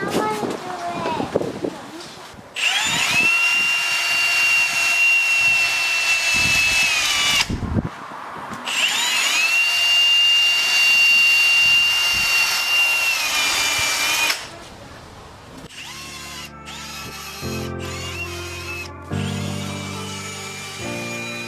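A drill with a 3M headlight restoration kit pad sands a headlight at 800 grit in two sustained high whirring bursts with short pauses, then gives a few brief on-off spurts, with a voice talking at times.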